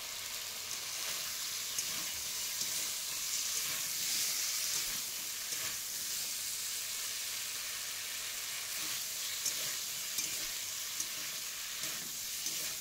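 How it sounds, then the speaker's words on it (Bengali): Pumpkin stems and tomato are stir-fried with spices in a pan, producing a constant close hissing sizzle with faint stirring movements throughout. "মশলার সঙ্গে সবজিগুলোকে খুব ভালোভাবে কষিয়ে নিচ্ছি।"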